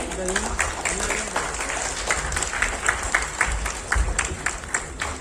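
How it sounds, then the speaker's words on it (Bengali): Applause from the audience at the South Assam Film Festival in Silchar, a dense, steady wash of clapping lasting several seconds, with a voice talking over it. "একটা জোরদার হাত তালি হয়ে যাক এই সাইড থেকে প্লিজ"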